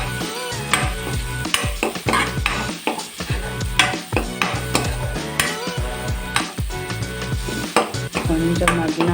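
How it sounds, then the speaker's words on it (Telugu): Garam masala is stirred into chole in a sizzling pan, with a spoon repeatedly scraping and clinking against the metal over steady frying, close up and with no speech. "కొంచెం గరం మసాలా, ఇది బాగా తిప్పుకోవాలన్నమాట."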